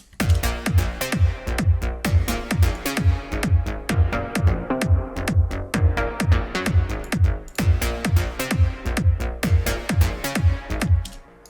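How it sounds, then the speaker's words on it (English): A bright plucked synth lead from the Vital synthesizer playing a quick rhythmic pattern with a reverb tail, pulsing steadily with pumping dynamics, no voices. "This lead sound with the reverb sounds like this."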